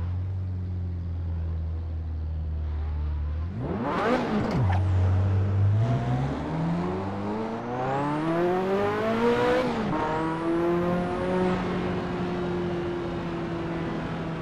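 A race car in a PC VR racing game running Custom Shaders Patch idles low, then revs hard and climbs through the gears with rising, sustained engine tones, close and loud, with no talking.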